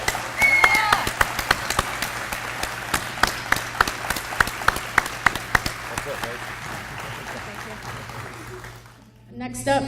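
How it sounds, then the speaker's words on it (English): Applause rises from an audience at an arts festival awards presentation, scattered sharp claps over a steady wash, fading near the end as a voice begins speaking. "huge round of applause for our scene."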